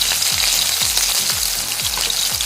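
Ginger paste and green chili frying in white oil, a loud continuous sizzle and crackle with a few stirring scrapes, close and steady throughout.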